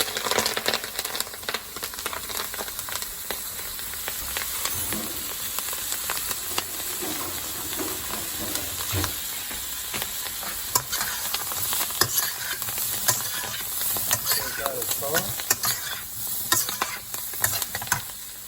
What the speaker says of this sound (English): Toss my Brussels sprouts in there.